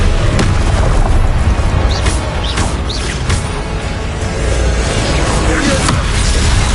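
In Hogwarts Legacy, the Expelliarmus spell is cast amid a dense flurry of combat magic: repeated booms, whooshes and crackling impacts keep up a loud, busy, continuous stream.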